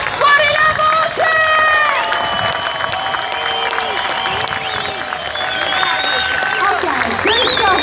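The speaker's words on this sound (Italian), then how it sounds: "mentre loro si godono questo grande applauso." A crowd applauds and cheers for freestyle motorcycle riders at a Rome motor show, clapping and shouting mixed with an announcer talking over a loud public address.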